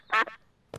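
A cartoon duck gives two short nasal quacks, then a third brief quack after a pause, clear and close in a quiet children's animated scene.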